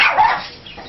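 A single short, high-pitched dog bark or yip, close and fairly loud, fading quickly.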